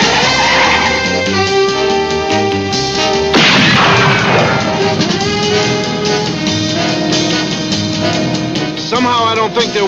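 Gunfire aimed at a fleeing car, heavy booming shots with a crash under loud dramatic music, one big blast standing out midway.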